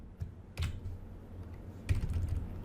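Code is typed on a computer keyboard in quick, uneven bursts of close key clicks and taps, with short pauses between flurries and no voices.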